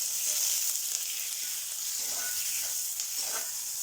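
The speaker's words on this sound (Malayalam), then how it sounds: "പച്ചമുളക് ഇട്ട് കൊടുക്കാം. കറിവേപ്പില ഇട്ട് കൊടുക്കാം. ഒന്നും കൂടി നന്നായി വഴട്ടാം." Green chillies and curry leaves sauté in hot oil in a pan, giving a steady, soft sizzle and frying hiss with faint stirring throughout and no talk.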